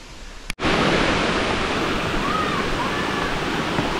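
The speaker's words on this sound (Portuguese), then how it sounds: "Na cachoeira da Boca da Onça." Roaring waterfall at Cachoeira da Boca da Onça in Bonito, Mato Grosso do Sul, a loud, steady broadband rush of falling water after a brief dropout at the start, with faint voices beneath.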